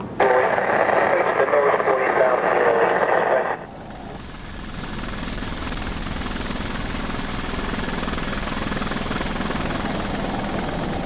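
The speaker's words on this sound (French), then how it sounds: "la dépose en hélicoptère est devenue courante au large du Havre" Crackly radio chatter for a few seconds, then a steady rumbling helicopter drone that continues throughout, as a helicopter transfers a pilot to a container ship off Le Havre.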